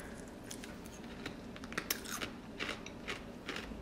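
Dry, sugary cereal resembling Cinnamon Toast Crunch crunched close up, a quick run of crisp bites followed by steady chewing crunches.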